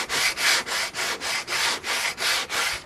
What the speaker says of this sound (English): I'm going to actually use this to hand sand around the edges